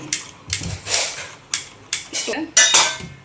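A metal wok is handled before roasting cracked wheat, giving a series of sharp metallic clanks and knocks at irregular intervals, close by and fairly loud.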